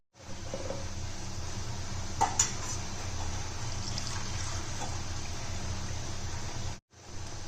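Fresh coconut milk pours into steel tumblers for measuring in a home kitchen, a steady close trickle of liquid with a couple of sharp metallic clinks from the vessels and no voices.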